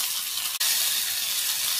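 Curry leaves, mustard seeds and asafoetida sizzle steadily in hot oil for a stuffed bitter gourd dish, a close, continuous bright hiss with one brief dropout partway through.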